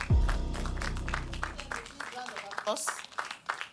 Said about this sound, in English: A bigger round of applause for the two schools, please.